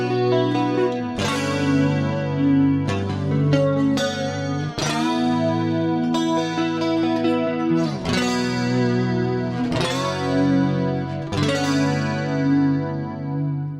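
Rockman-style clean electric guitar tone from a Fractal FM3 amp block, strummed chords ringing with chorus-like shimmer, each new strum every couple of seconds, loud and alone without talk.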